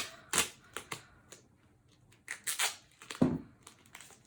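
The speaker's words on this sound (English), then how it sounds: "we're going to take a piece of tape" A strip of tape is torn off the roll while making a paper woven bag, giving a few brief, close, crackly rips and crinkles separated by pauses.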